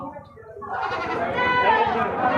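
Goats bleat repeatedly at a busy open-air goat market on a riverbank beneath a bridge, the calls rising over a dense bed of crowd chatter and people talking nearby.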